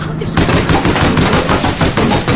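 Loud machine-gun fire in the online shooter APB, a continuous fast stream of shots that kicks in after a brief quiet start and stays dense and close to the end.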